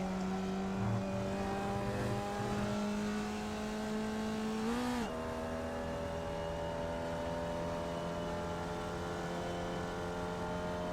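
Formula Vee race car in the iRacing simulator lapping the Okayama short circuit, its engine droning steadily with rising and falling pitch as gears shift through a corner, loud and continuous with no speech.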